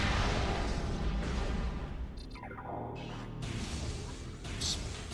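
Super missile blast hitting a cordite block in Metroid Prime: a loud rumbling boom with a short whooshing sweep and a few pings partway through, set against a dense game soundscape.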